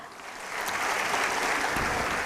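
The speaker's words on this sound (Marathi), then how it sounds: "मिनलताईंसाठी जोरात टाळ्या." Audience clapping at a women's organisation gathering in Pimpri Chinchwad, applause building quickly into a loud, sustained roar of many hands with a few sharper claps near the end.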